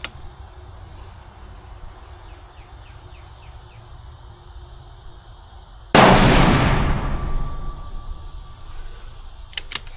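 A single rifle shot fired at a long-range target: one loud, sharp crack about midway through that decays over a few seconds, set against a steady outdoor hum.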